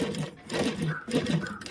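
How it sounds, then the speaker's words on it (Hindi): A domestic sewing machine runs and stitches after an adjustment for faulty lower stitching, whirring in short rhythmic bursts of mechanical chatter at close range. "तो चलिए अब हम आपको दिखाते हैं सिलाई कैसी मशीन दे रही है।"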